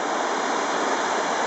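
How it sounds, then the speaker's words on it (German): Sea surf churning against the rocky shore below Fort St. Elmo in Malta, a continuous loud broadband wash of water without breaks or talking. "tobt das Meer doch schon auch an ruhigen Tagen"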